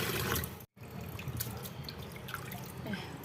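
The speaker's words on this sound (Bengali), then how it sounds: "লবণ দিয়ে চটকে চটকে যে যতবার ধুচ্ছি ঘোলা ঘোলা জল" Small bata fish are rubbed with salt and rinsed in water, with close splashing, sloshing and dripping that briefly cuts out before continuing.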